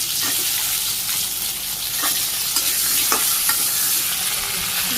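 Okra and potatoes fried in oil with cumin and chopped onion in a village kitchen, producing a loud, continuous sizzle with a few spoon-stirring scrapes, up close.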